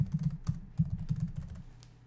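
Quick, light keystrokes tap on a computer keyboard while an FTP address is entered, a close, soft run of irregular clicks that slows and fades toward the end.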